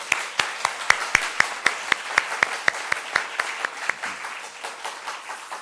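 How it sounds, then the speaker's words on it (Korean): A church congregation applauds with brisk, fairly rhythmic clapping that starts strong and slowly thins out and fades over several seconds, heard at a moderate distance. "우리 말씀 듣기 전에 하나님 앞에 감사와 영광의 박수 한번 들리고 시작하겠습니다."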